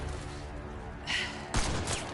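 Gunfire in the Mass Effect Andromeda video game, a pair of sharp shots in quick succession over a steady background rumble, with brief bursts of noise after each.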